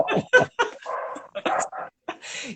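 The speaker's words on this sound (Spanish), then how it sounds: "Los perros de mi vecino." Neighbour's dogs barking and yelping in a quick irregular series of sharp barks and whimpering yips, fairly close and loud, with brief gaps between bursts.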